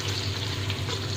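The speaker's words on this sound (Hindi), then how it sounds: "तो प्याज को लाइट सा फ्राई करेंगे" Onions lightly frying in oil for Chinese rice, giving a close, continuous crackling sizzle with faint stirring underneath.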